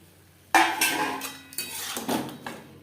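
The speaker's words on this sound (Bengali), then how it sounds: "মশলার সাথে পটল বেশ ভালো করে মিক্স করে দেব হাই টু মিডিয়াম ফ্লেমে তিন চার মিনিট নাড়াচাড়া করে নেব" Pointed gourd being tossed with spices in a metal pan over high to medium flame, giving a few sharp clanks and scrapes of a utensil against the pan in quick bursts, close up with no speech.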